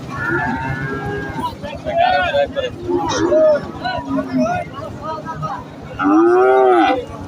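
A cow moos several times, long and close, at a cattle market over a background of crowd chatter and voices.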